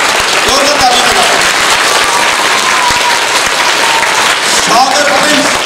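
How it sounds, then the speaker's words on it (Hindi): Loud, sustained audience applause at a live school stage show, a thick continuous roar of clapping from a crowd with faint voices mixed underneath. "जोरदार तालियों में"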